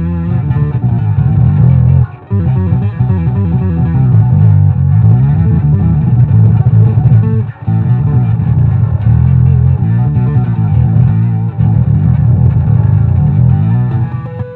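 An electric bass runs through an EBS Octabass pedal with distortion, producing a loud, thick, growling low tone with gritty upper harmonics, played as a continuous riff with a couple of brief breaks.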